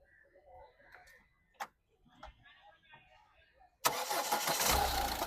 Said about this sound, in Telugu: సింగిల్ సెల్ఫ్లో బండి స్టార్ట్ అవుతుంది